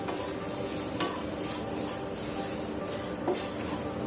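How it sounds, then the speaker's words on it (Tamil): Steady close sizzling of grated coconut roasting in a pan, with scraping and stirring, a continuous dry crackle with occasional clinks, no voices. "இப்போது இந்த ஸ்டேஜில் வந்து துருவி வச்சுருக்க 1/4 கப் அளவுக்கு தேங்காயும் சேர்த்து வறுத்துக்குவோம்."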